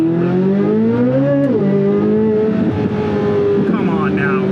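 Chevrolet Corvette C8 Z06 with its big-displacement V8 engine, a loud continuous throaty drone that rises and dips in pitch as the revs change, close and steady throughout, with a voice talking over it.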